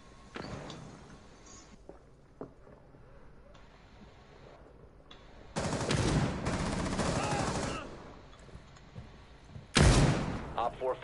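Gunfire in Rainbow Six Siege: scattered single shots and two dense bursts of automatic fire, fairly close, with muffled speech in places.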